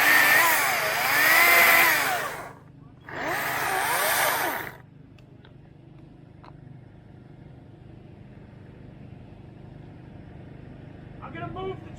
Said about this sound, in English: it's nice to have a track chipper